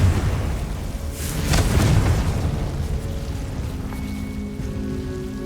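A booming fire-spell blast in Hogwarts Legacy rolls out loud and dense, with a rumbling burst peaking early and then a fading crackle and tonal game effects.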